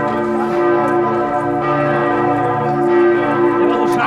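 Church bells in Bremen ringing steadily during a street march, sustained tonal peals with overlapping strikes that fill the whole short stretch at a fairly loud level.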